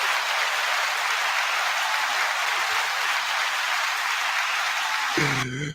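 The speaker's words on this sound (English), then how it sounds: "9-second applause." Steady, dense applause from a crowd, even and loud for about five seconds before cutting off abruptly into a brief voice at the very end.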